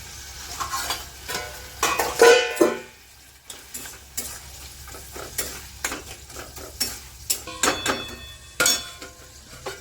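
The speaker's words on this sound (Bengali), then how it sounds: "এবার যে ছোলাগুলো সেদ্ধ করেছিলাম সেই ছোলাগুলো দিয়ে দেবো" Boiled chickpeas tipped into a frying pan of taro greens cooked with fish head, then stirred: irregular scraping strokes and clinks of the spoon against the pan over a soft sizzle, close and fairly loud, no talking.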